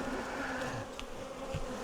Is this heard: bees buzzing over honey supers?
yes